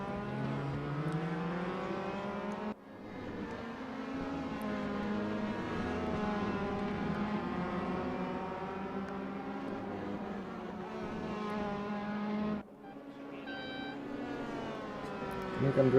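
Race cars in a racing video game at Spa, engines droning steadily with shifting pitch as they are thrown through corners, a brief cut and another near the end, under faint commentary.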